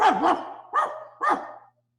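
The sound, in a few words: dog barking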